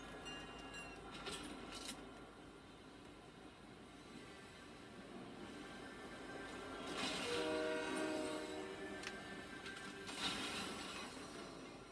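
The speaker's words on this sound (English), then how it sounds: "Luckily, the train is right here." A train in the video game Fortnite rumbles steadily throughout, with a horn-like tonal blast swelling louder near the middle; no talking.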